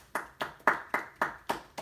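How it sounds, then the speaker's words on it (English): Applause breaks out after a podcast host's call, heard as six evenly spaced, crisp hand claps in a steady rhythm, close and moderately loud. "Everyone round of applause for that."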